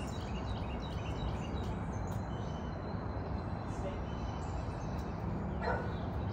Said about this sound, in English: Somebody's doing this like a consistent bark.